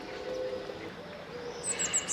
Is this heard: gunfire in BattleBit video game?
no